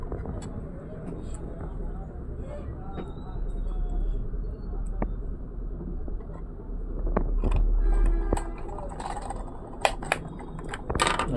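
Small clicking and ratcheting sounds come from screwing the battery cover, over three AA batteries, onto a toy duck. The clicks are sparse at first and then come in quick clusters, against a steady background hum with voices nearby.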